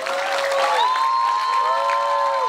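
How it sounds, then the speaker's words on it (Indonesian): Audience applause at a lively Sundanese religious sermon, steady and fairly loud, with a sustained whistle-like tone gliding across the crowd noise and faint voices mixed in. "tepuk tangan"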